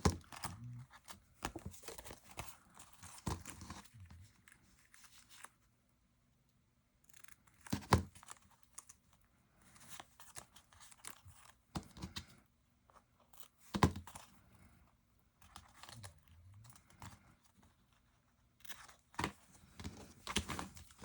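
Scissors snip and trim washi tape overhanging the edges of a card panel, a run of quiet, close cutting clicks and crinkles in irregular bursts with short pauses between.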